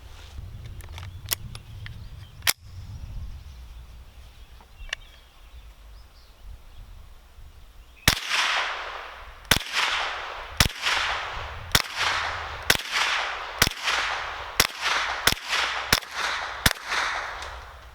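A Marlin Model 795 rifle fires ten rounds in steady succession, each a sharp, loud crack about a second apart, after several quieter clicks and handling sounds at the start.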